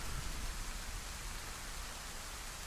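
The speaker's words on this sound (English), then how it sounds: "I don't know where I'm going in the rain" Steady rain falling in a video game, a dense, even hiss with no breaks and no voices over it.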